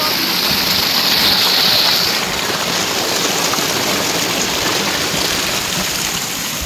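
Sharishua waterfall pours in a steady, loud, broadband rush of falling water, continuous and close, with no pauses across the whole stretch.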